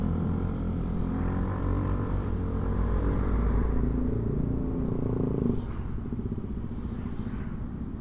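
A Yamaha Grand Filano scooter accelerating on a touring ride, a steady close engine drone with wind rumble that eases slightly toward the end.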